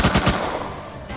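Automatic gunfire in the video game Rust rattles off in a quick burst of three loud, close shots, then fades into a lingering tail.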